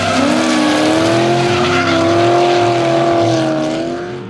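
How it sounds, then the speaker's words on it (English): Drift cars battling in a D1NZ championship round at Christchurch, led by a Mazda FC RX-7, their engines roaring loudly at high revs with rising and falling pitch and tire noise, close and sustained. "the Achilles FC RX-7 powering away in the lead pass"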